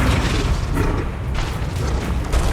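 Spell effects in the video game Hogwarts Legacy, including a Flipendo cast, make a dense, loud, rumbling boom that fills the whole stretch with continuous low-heavy impact noise.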